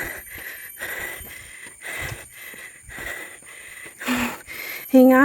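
Heavy, rhythmic panting after a steep uphill walk, with repeated wheezy breaths in and out roughly every second, close and fairly loud, ending with a brief voiced sound.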